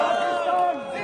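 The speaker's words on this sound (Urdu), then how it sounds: "یوکرین سے آئے پاکستانی طلبہ نے وطن واپس پہنچ کر پاکستان زندہ باد اور PIA پائندہ باد کے فلک شگاف نعرے لگائے" Pakistani students returning from Ukraine chanting slogans at Islamabad International Airport, a brief loud burst of many voices shouting together in unison.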